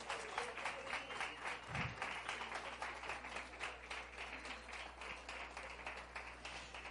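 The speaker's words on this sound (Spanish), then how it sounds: "Un aplauso" Steady applause from a church congregation celebrating their pastors' birthday, continuous rapid clapping from many hands at a moderate distance, with a low hum underneath.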